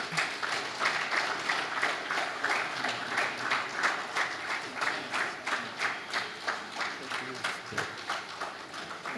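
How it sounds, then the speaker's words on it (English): A crowd at a men's parliament session claps for a speaker walking to the podium, a sustained rhythmic round of applause with pulsing, near-synchronized clapping lasting several seconds. "Can we give him a round of applause?"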